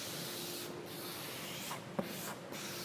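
A squeegee is rubbed back and forth over a stainless vinyl panel, giving a soft continuous scraping hiss with a couple of faint swells and one small tap, quiet and alone.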